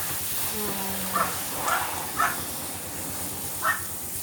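A flooded river rushes past in a steady, broad hiss of water, with a handful of short dog barks breaking through now and then.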